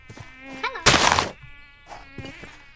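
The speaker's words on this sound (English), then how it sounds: "I hear mosquitoes too." Mosquito buzzing from a fantasy dungeon video game, a thin whining drone running under the scene with a sudden loud noisy burst in the middle and faint tonal game sounds around it.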